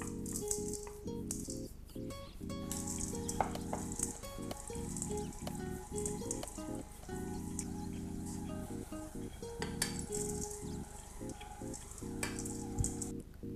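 Cookie dough with cranberries and chocolate being mixed in a bowl, a continuous clattering, rattling stir with scraping bursts throughout, close and fairly steady with no talk.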